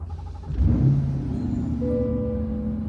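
A 2023 Chevrolet Corvette Stingray Z51 mid-engine V8 cranks and fires up with a burst of revs, then settles into a steady, throaty idle nearby.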